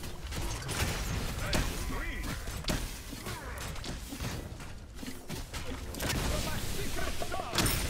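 Vulcan's turret fires in a video game with sharp, repeated bursts and mechanical clanks. Crashes and booms sit among busy game noise throughout.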